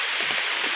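Heavy rain pours steadily down on Paynesville, a dense, even hiss of water that holds at the same level from start to finish with no talk over it.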